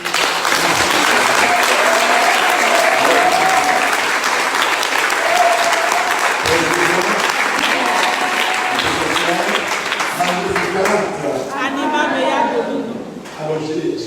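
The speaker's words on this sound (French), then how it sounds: "Et nous voulons te donner nos acclamations" A church congregation at an evening teaching on the Virgin Mary gives a long, loud burst of sustained applause and acclamation, thinning toward the end as a few voices call out over the clapping.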